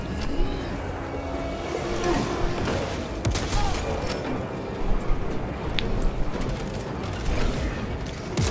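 Plasma gun fire in the Warhammer 40,000 Space Marine 2 video game: dense, continuous mechanical weapon discharges and clattering combat noise, loud and busy throughout with sharp bursts layered over a steady roar.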